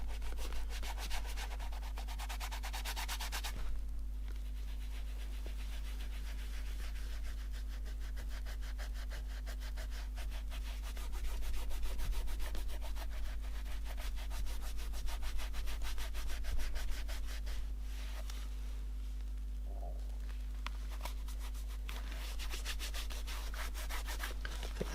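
Cream is buffed by hand onto Oliver Sweeney snake skin leather dress shoes in close, soft, repeated rubbing strokes over a low steady hum, with a brief louder stretch midway.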